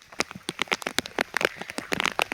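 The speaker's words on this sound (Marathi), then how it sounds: "जोरदार पाऊस चालू आहे" Heavy rain falls during a night of traditional crab catching, heard as dense, irregular patter and splashing drops striking nearby surfaces and foliage, close and fairly soft, with no talking.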